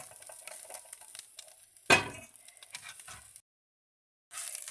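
Fried clam meat is stirred with roasted spices in a pan, giving scraping and sizzling sounds, with one sharp clank of a utensil midway, then a brief silent gap.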